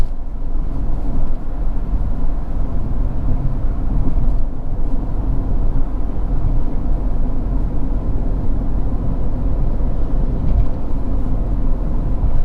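A Peugeot 2008 with a 1.2-litre turbo engine cruises down an empty highway lane at light throttle, heard from inside as a steady, even drone of engine and road noise with no talking.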